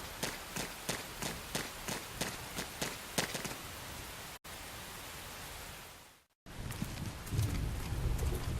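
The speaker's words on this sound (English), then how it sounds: "The rain's starting to let up, just in time for sunrise." Rain in the video game Xenoblade Chronicles X makes a dense, steady hiss across the whole clip, with rhythmic thuds early on and a brief dropout midway.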